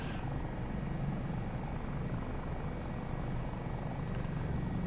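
Helicopter flying in Microsoft Flight Simulator 2024, a steady low rotor and engine drone holding at an even level throughout, moderately loud and continuous with no voices.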